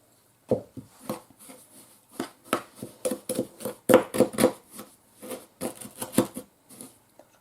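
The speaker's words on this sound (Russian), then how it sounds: "Высыпаю сахар." Granulated sugar poured into a bowl of lingonberries for homemade pie filling, heard as a series of soft, close pattering rustles and grainy sprinkles in bursts, with no talking.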